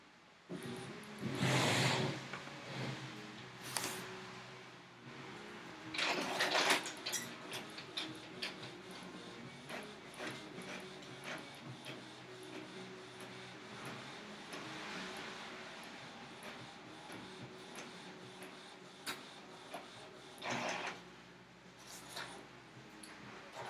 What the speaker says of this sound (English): Oh! Actually, it's just printing.